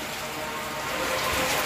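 Heavy typhoon rain in Camarines Sur pours down steadily, making a dense, continuous hiss that swells slightly louder toward the end.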